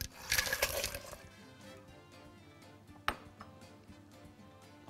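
Ice cubes clatter and clink into a blender in a brief burst while making a mango and strawberry cocktail, followed by a couple of faint knocks and a sharp tap.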